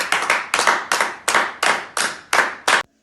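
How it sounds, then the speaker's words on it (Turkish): Sharp rhythmic hand clapping in applause for health workers during the coronavirus outbreak: about eight loud, close bursts of claps in a steady beat, then a sudden stop, with no talking. "tüm sağlık çalışanlarımızı alkışlıyoruz"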